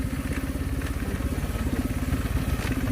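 A motorcycle ridden over a rough, potholed road, its engine droning steadily with a fast, rhythmic pulse and loud, close rattles throughout.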